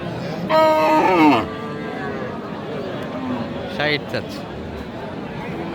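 A cow lets out one loud, drawn-out moo early on at a livestock market, over a busy crowd murmur with people chattering nearby.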